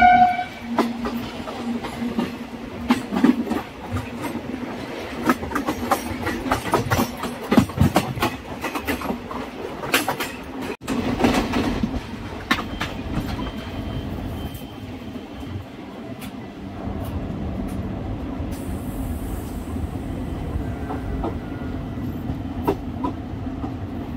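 A Rewari–Delhi passenger train rolls along the tracks, with loud rumbling, rhythmic clattering of wheels over rail joints and a horn blast, then a steadier rolling drone.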